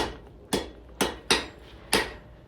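A hammer strikes hot steel on an anvil while drawing out a taper for a forged sign bracket, giving five or six sharp, ringing blows at an uneven, fairly quick rhythm, close and clear.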